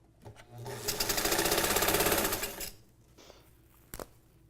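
A Johnson ruffling machine runs in a burst of rapid, steady mechanical whirring that swells and fades over about two seconds. A faint click comes before it and a few light clunks follow.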